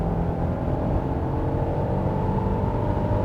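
A Genesis GV80's 3.5-liter twin-turbo engine pulls hard in sport mode, a steady, full low drone with a faint whir heard from inside the cabin, unbroken and without talk.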